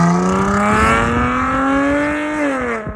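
A V6 Dodge Challenger engine revs loud and close, its tone climbing smoothly and holding high before dropping off sharply near the end.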